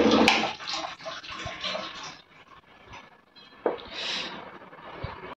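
Water runs from a household water filter in a loud splashing gush that fades, pauses briefly and then returns, heard up close with no talk.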